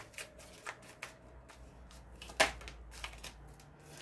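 Tarot cards are shuffled nearby in a quiet room: soft, faint riffling and papery flutters come in light bursts, with one sharper snap partway through.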